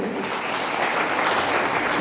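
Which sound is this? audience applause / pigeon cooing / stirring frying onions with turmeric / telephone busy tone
audience applause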